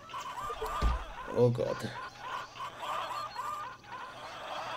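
Chickens and geese in a Zoo Tycoon 2 enclosure let out a few honks and clucks, loud and close, while a person speaks over the animal calls in German.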